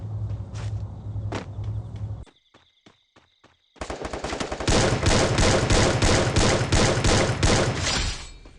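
Rapid gunfire in the mobile shooter Free Fire, with a few separate shots, a brief quiet gap with faint clicks, then a loud, sustained burst of automatic fire that runs to the end.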